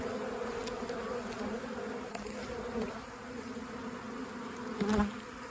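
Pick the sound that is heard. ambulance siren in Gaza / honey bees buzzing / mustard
honey bees buzzing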